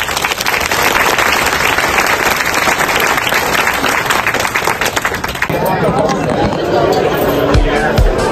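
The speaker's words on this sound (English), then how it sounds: "Please join me to give a big applause to all of you." Conference audience at a chemistry meeting on MOFs in Singapore bursts into loud, close applause, sustained crowd clapping that eases after a few seconds into chatter and background hubbub.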